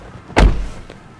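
A power rear liftgate on a 2022 Mercedes-Benz GLC 300 4MATIC closes with one firm, loud thud, then a faint latching click shortly after.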